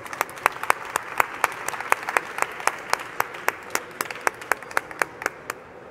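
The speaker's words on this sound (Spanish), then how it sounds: "un aplauso por favor para Lourdes" A small audience at a pharmacy trade fair talk claps for Lourdes. The individual claps stay sharp and distinct in a quick, fairly regular rhythm, fading slightly toward the end over a quiet background.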